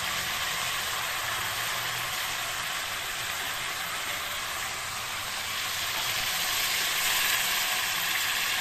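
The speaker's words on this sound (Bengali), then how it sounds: "এরপর এই যে গরম জলটা এখানে ঢেলে দেবো।" Hot water is poured into a sizzling katla fish curry with potato and cauliflower, producing a loud, continuous broadband hiss that swells slightly toward the end.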